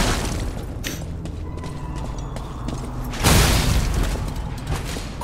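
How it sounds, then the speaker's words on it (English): In the action game Lies of P, an explosion bursts with a heavy broadband boom partway through, rising out of ongoing mechanical combat rumble and clanks before a sustained roaring tail. "Explode!"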